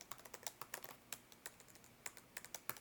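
Quick, irregular clicks of typing on a computer keyboard while writing code, soft and close, short bursts of keystrokes with small pauses and no voice.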